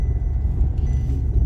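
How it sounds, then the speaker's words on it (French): A car pulls in under a covered carport with a low, steady engine rumble that is close and fairly loud, with no one talking. "La voiture rentre."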